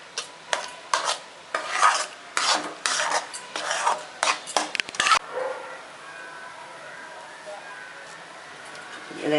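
Gooseberry thokku with salt and chili powder is stirred in a pan, producing rhythmic loud scraping strokes of a spoon against metal for several seconds, then a quieter low sizzle.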